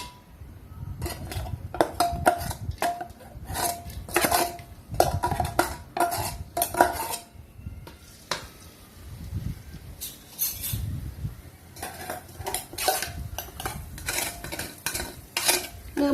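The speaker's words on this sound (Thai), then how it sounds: "น้ำมันเริ่มร้อนก็ให้ใส่กระเทียมลงไปผัดเลยนะคะเพื่อน ๆ" Blended garlic stir-fried in hot oil for pork rad na, with rapid repeated metal clanks of a spatula against the pan over a soft sizzle, close and busy throughout.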